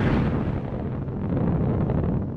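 Black Arrow orbital rocket launching in a video game: a loud, continuous roaring rumble of broadband noise that fades slightly toward the end.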